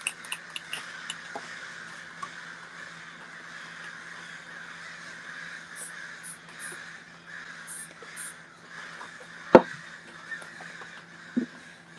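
Several crows caw from a distance in a backyard, in scattered calls over a steady outdoor background, with one sharp nearby knock partway through.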